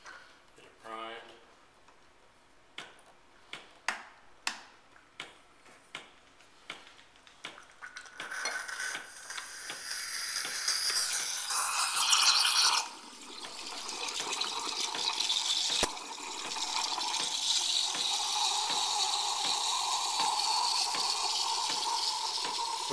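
Saeco Odea Giro espresso machine priming its steam wand: a series of sharp clicks and taps gives way to a loud, sustained hiss of steam that briefly dips and then continues steadily, close by, with a person speaking at the start.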